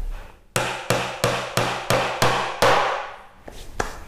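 A hammer striking to fasten the sides onto a simple DIY wooden tray: seven sharp, evenly spaced wooden knocks with ringing decay, followed by a couple of fainter taps, close and without speech.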